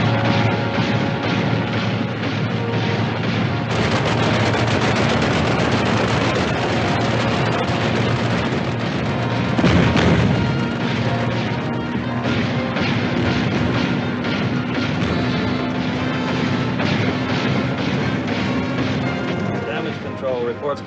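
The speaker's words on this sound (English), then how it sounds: "Commence firing. Commence firing." Naval guns aboard a warship in a 1956 war film, a continuous heavy roar of firing and blasts. Voices carry on underneath throughout.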